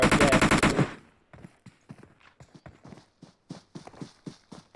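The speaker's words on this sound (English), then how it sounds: "Nades going out all directions." Gunfire and grenade blasts in a PUBG Mobile custom-room match: one loud dense burst of shots, then a string of sharp, scattered pops and bangs at a steady pace, with no talk.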